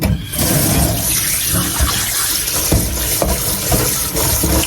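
Radish being washed under a running kitchen tap, a loud continuous splash and gush of water with small knocks as the vegetable is handled, close and without talk.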